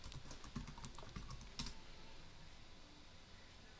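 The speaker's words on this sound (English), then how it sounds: "Type in the old password, type in the new password, type in the new password again" A password is tapped out on a computer keyboard while setting up Ubuntu 18.04 server: a quick run of close, crisp key clicks for under two seconds, then faint room hiss.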